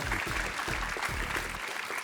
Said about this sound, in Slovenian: tudi Muta pa si zasluži aplavz